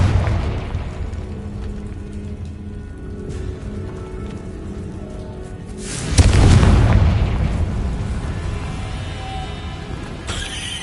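A Confringo spell explodes in the video game Hogwarts Legacy, a single loud, deep blast partway through, rumbling over a continuous rain-like ambient wash.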